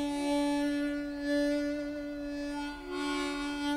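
A single harmonica note is held steadily, shifting between an open, brighter tone and a duller muted one as the cupped hands close around the instrument; played alone, close and clear.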